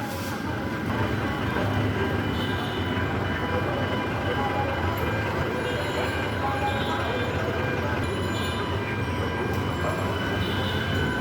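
A train approaching a busy level crossing makes a loud, steady rumble and rattle throughout, with street noise and faint voices mixed into the continuous roar.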